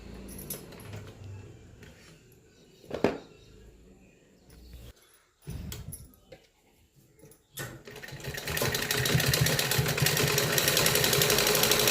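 Sewing machine stitching the seams of a net-fabric kurti, heard as intermittent short runs with pauses between, then a steadier, louder continuous whir near the end; no talk.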